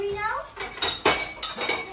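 Steel kitchen utensils and new household vessels clink and clatter in a few sharp metallic knocks as they are handled indoors, with people talking nearby.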